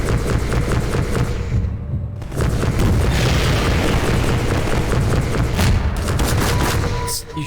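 Rocket blasts in a VR video game: loud, dense booming bursts with crackling gunfire-like clatter fill the whole stretch, the roar briefly dropping out near the start before swelling again and holding steady.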